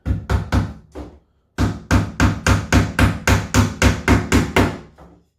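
Sharp hammer blows drive nails into a wooden frame: a few quick strikes, a brief pause, then a long even run of about a dozen close, loud taps.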